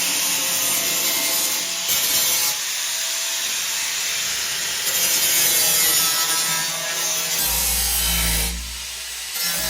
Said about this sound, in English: Now we've got some pretty nasty rough edges, so we need to get the flap disc out and start tidying them up